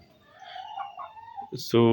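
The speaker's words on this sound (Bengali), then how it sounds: "আমার শৌখিন খামারে অলরেডি 3 জাতের মুরগি আছে।" Chickens on a small hobby farm keeping Colombian White Brahma, Egyptian Fayoumi and local deshi hens call and cluck at low level, then one loud, close, harmonic-rich call ends the stretch abruptly.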